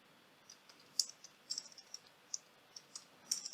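Soft, irregular keyboard clicks patter in quick, uneven bursts, close and quiet, with no talking.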